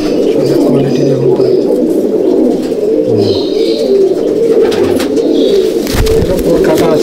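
A steady chorus of cooing rises from a loft of mature pigeons, many low calls overlapping close at hand, with a brief voice-like murmur and a soft thump near the end.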